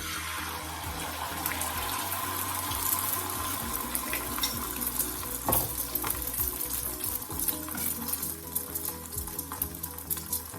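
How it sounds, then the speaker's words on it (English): Beaten eggs hit hot oil in a pot and sizzle loudly while being stirred and scrambled, with steady frying crackle and scraping of the utensil through the whole stretch. "Now my oil is ready. I'm going to start to pour my egg in to scramble it."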